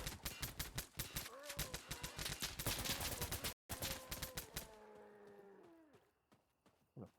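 Rapid bursts of gunfire crack out loud and close in Insurgency Sandstorm, dense automatic volleys for several seconds before a brief gap, then thinning shots that trail off.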